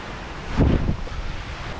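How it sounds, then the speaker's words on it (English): A small creek waterfall spills beneath a road overpass beside a fairly busy road, giving a steady broadband rush with a brief louder swell midway, mixed with wind-like noise and no talking. "it's a beautiful little waterfall"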